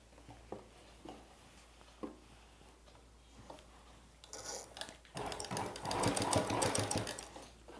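A domestic sewing machine stitching cotton cloth for palazzo pants, a few isolated clicks and handwheel taps at first, then a rapid continuous whirring run of stitches building in the last seconds.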